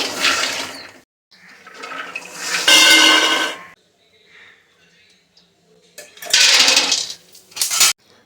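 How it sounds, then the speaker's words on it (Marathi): Makhana (fox nuts) rattling and scraping in a pan as they roast, in a few loud bursts of clatter separated by quieter stirring, then scooped out with metallic scraping. "सगळ्यात आधी हे मखाने भाजून घेते भाजत आलेत मखाने काढून घेऊया"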